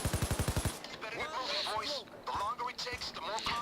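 Sentry turrets firing in the video game Payday 2, a rapid burst of about eight regular shots at the start, followed by chirpy electronic game sounds and mixed effects over a steady background.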